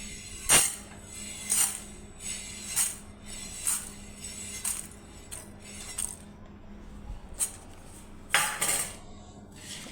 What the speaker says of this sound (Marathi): आता त्याच तव्यावरती जिरा पण भाजून घेते.